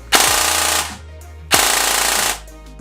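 Jing Gong JG201 M5K airsoft AEG, an upgraded MP5K-style electric gun, firing two loud full-auto bursts with a rapid, even buzzing cadence like a drill, each lasting under a second, separated by a short pause.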